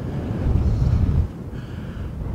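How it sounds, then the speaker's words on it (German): Wind gusts across the microphone on an open hilltop near a castle ruin, a steady low rumble and rush that surges for about a second and then eases to a softer blow, with no voices. "Da geht jetzt ein bisschen Wind."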